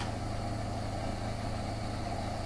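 A tractor engine in a farming video game drones at a constant low hum, fairly quiet and unchanging throughout, with no talking.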